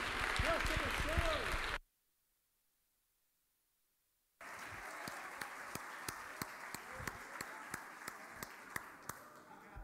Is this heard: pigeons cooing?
no